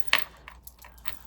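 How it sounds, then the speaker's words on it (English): A bracelet clinks against itself while concealer is applied, giving a few light, close metallic taps, the sharpest one near the start and softer ones after, with no voices. "Sorry about the noise, that noise, it's my bracelet."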